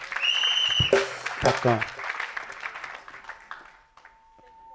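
A church congregation applauds and cheers, loud at first, then thinning into scattered clapping that fades away. A voice speaks over the start, and a faint steady tone lingers at the end.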